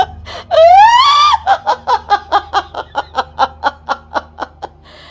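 A voice imitates a pontianak ghost's laugh, starting with a shrill rising wail and breaking into a long run of rhythmic, staccato cackles that gradually fade, close and loud.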